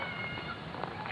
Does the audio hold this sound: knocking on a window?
no